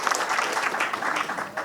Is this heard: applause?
yes